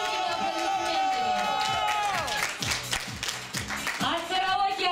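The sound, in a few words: audience applause at karaoke award ceremony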